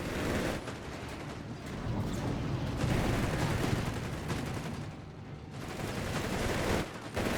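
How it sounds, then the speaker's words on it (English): Gunfire and bazooka blasts crackle in a Company of Heroes 3 battle, with dense overlapping shots and bursts in a loud, continuous barrage and no talk. "More bazooka fire there."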